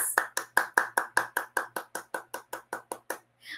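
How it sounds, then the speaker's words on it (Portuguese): Roughly fifteen sharp, evenly spaced hand claps from a single nearby person during an online webinar, loud at first and gradually softening before a final fainter sound. "Então, palmas para vocês."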